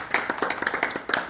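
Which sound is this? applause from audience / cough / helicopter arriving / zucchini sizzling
applause from audience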